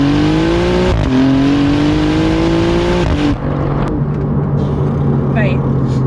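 An Alfa Romeo Giulia GTA M accelerating hard on a wet track, its engine note climbing loud and close through gear changes, then dropping to a steadier drone with faint chirps, and people talking underneath.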